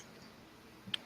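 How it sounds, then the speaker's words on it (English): A single sharp mouse click near the end, brief and close, set against a faint steady room hum while pressing a test bandwidth button on a computer. "Clicking the test bandwidth button."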